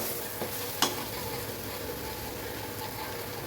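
Brinjal and potato stir-fry cooking in a pan, a soft steady sizzle with a couple of sharp spatula knocks and scrapes early on, fairly quiet and close, with no one talking.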